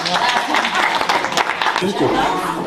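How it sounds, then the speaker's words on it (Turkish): Applause from an audience at a gathering of Black Sea community members breaking the fast in Germany, steady dense clapping with some chuckles throughout, close and fairly loud. "Bunun içinde bir alkış"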